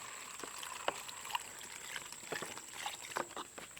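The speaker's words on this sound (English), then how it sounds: "filtering water." Water pours and trickles unevenly into a water filter, with small splashes and drips, fairly quiet and close, no voices.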